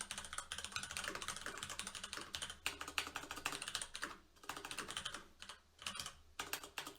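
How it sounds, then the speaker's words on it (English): Rapid, steady computer keyboard typing, close and fairly loud, with dense clusters of keystrokes running for several seconds, briefly pausing, then resuming in shorter bursts. "excellent typing today"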